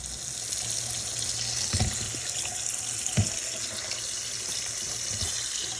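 Canned black, red and dark kidney beans rinsed under a running kitchen tap, a steady close splash of water into the sink with a couple of louder bursts, no voices.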